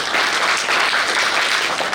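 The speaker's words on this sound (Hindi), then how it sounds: "उसके लिए जोरदार ताली बजाई" An audience at a religious gathering on the Braj Chaurasi Kos Yatra claps loudly and steadily, a dense wash of hands filling the space for a couple of seconds, with no one speaking over it.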